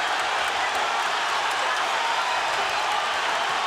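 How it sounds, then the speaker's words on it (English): A dense, steady roar rises from a boxing arena crowd during the final round of a Pacquiao vs Marquez fight, loud and continuous with no pauses. "Listen to the crowd, folks."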